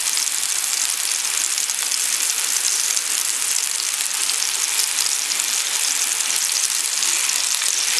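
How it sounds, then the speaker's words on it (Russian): Meat patties sizzling in hot sunflower oil in a pan, a steady, dense crackling hiss that holds evenly throughout with no talk. "начинаем поджаривать наши котлеты"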